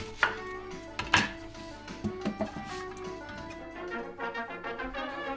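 An onion is chopped with a knife on a board for a reindeer tongue dish, with scattered single close chops early on, then a quicker run of lighter cuts toward the end, and no speech.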